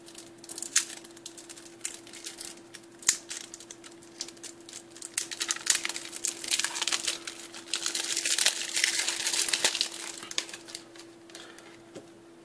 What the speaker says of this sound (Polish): I przejdźmy do rozpakowania kart